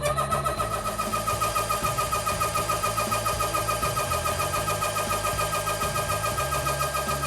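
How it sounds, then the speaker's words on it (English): An electric air pump fills an Umarex AirSaber airgun, running steadily with a fast, even mechanical chug and a constant whining hum, close and unbroken throughout. "after the pump shuts down, letting you know that you've reached your PSI"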